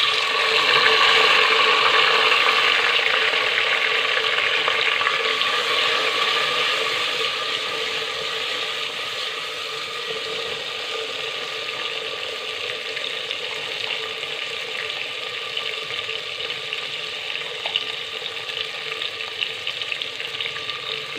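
Onions and tomato frying in a pan make a continuous, fairly loud crackling sizzle with a fine, rattling texture that eases slightly after the first few seconds and then holds steady throughout.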